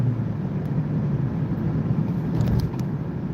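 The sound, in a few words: road traffic, cars passing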